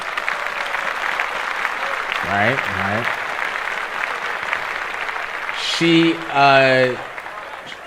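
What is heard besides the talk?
applause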